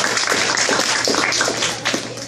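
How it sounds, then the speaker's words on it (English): Banquet audience applauding and cheering at a spring student organization dinner, a dense steady wash of many hands clapping close by, with voices mixed into the crowd noise. "please give him a round of applause"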